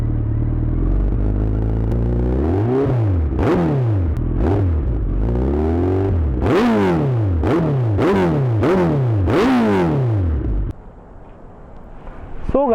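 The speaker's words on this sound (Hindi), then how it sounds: "इसमें 2 ब्रदर्स एग्जॉस्ट लगे हुए हैं, उसकी वजह से ये साउंड है" A Suzuki Hayabusa motorcycle with an aftermarket Two Brothers exhaust revs repeatedly in sharp, loud, throaty bursts, each rev rising and falling, before dropping to a rough idle.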